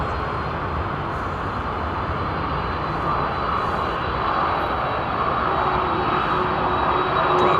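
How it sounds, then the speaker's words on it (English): A Delta Boeing 767 jet with CF6 engines at London Heathrow Airport, a loud continuous broadband engine roar that stays steady and swells slightly toward the end, with a faint whining tone running through it. "Oh, listen to this thing next to me. Delta 767. Looks like she's got CF6 engines."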